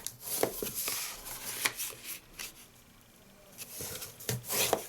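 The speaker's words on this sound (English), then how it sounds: "That leaves us to do a bit of folding and burnishing." Card for a fold-flat gift box is folded and burnished along scored lines, giving close, soft scraping and rubbing strokes in irregular bursts with brief quieter gaps.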